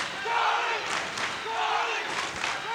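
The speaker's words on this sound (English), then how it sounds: "this crowd has come alive for South River" A high school wrestling crowd backing South River cheers and yells in rising waves inside a gym, with a commentator's voice under the noise.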